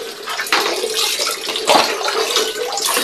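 Tap water runs into a container during a typhoon in Laguna, with a loud, continuous splashing rush and small surges throughout.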